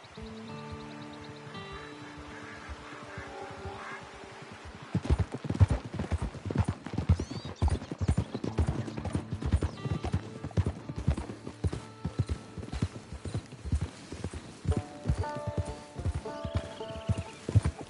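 A horse's hooves clip-clop on hard ground at a steady walking pace, close and distinct, after a quieter opening with music; the rhythmic steps continue throughout.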